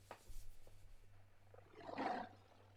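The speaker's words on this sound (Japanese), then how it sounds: "还真是东北虎" Siberian tiger in the anime Golden Kamuy lets out a faint, distant roar that swells and fades, alone over a quiet low hum.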